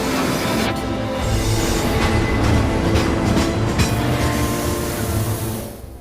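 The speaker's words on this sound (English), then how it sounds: "We have the fast train." A fast train in the Final Fantasy 7 video game rushes past with a continuous roaring, rattling rail rumble that stays loud throughout before easing off at the end, with no voices.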